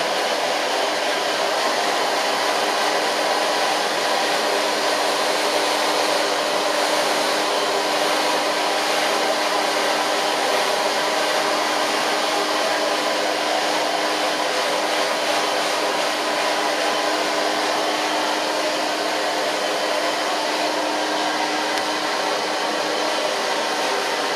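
A hair dryer blows steadily while hair is blow-dried with a brush, a loud, unbroken whooshing drone with a faint motor whine that holds for the whole stretch without pause.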